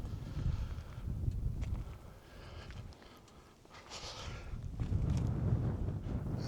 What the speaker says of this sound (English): Oop, there's that wind again.